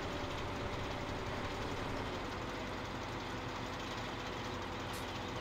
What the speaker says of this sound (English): the other potato harvester's going